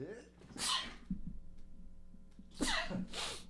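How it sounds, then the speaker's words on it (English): Two sneezes, each a sharp burst of breath, separated by a quiet pause with a low background hum. "I'm about to sneeze"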